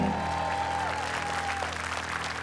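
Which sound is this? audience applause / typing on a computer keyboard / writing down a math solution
audience applause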